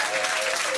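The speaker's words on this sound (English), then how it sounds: "round of applause" Brief, dense applause from a pub trivia quiz crowd at The Granta, steady clapping for a team, short and fairly loud throughout.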